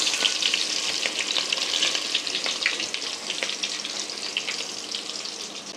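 Chopped onion frying in oil with tempering spices for a simple vegetarian dish, a bright, loud continuous sizzle with crackling bursts, close up and uninterrupted by speech.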